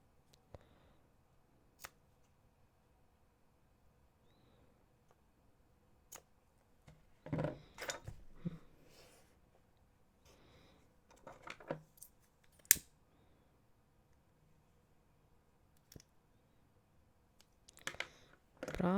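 Scissors snipping macrame cord while making earrings at a quiet work table, with several sharp, close snips and small clicks spread across the clip and a few busier bursts of handling noise.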